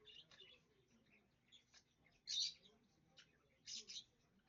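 Quasar, a pet bird, gives a few short, sharp chirps in scattered bursts, faint and close in a quiet indoor room.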